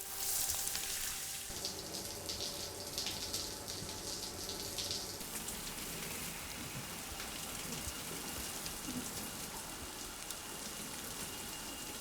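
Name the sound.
shower running water in Death Stranding video game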